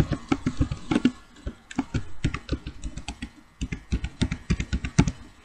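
Computer keyboard keys typed in quick, uneven bursts of close, crisp clicks while a Gmail password is entered, with no voices.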